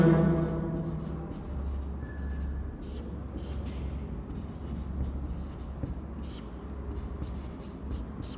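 Chalk or marker writing on a board during an algebra lecture, heard as repeated short scratchy strokes in quick bursts over a steady low room rumble, with no speech.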